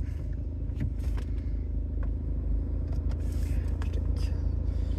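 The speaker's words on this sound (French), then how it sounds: "on va démarrer la voiture" A Citroën DS3 1.6 HDi diesel engine runs close by with a steady, loud low rumble and a dense idling throb through the whole stretch.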